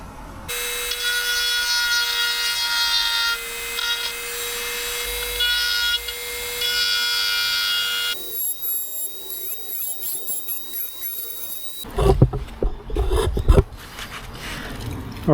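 A Dremel rotary tool grinds rust off metal on an Aussie Mini Clubman GT, a loud sustained high whine close by that shifts pitch partway through, then gives way to rougher scraping and handling noises.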